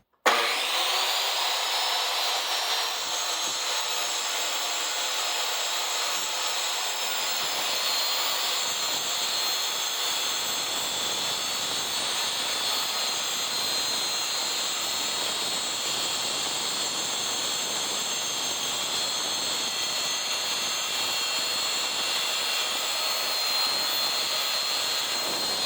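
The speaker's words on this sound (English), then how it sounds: "And I'm cutting off that rectangle with the circular saw" Circular saw cutting through a large sheet of plywood in a garage workshop, starting with a sharp click and then holding a steady high whine and rasp of blade through wood for the whole stretch.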